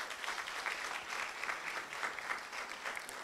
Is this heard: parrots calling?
no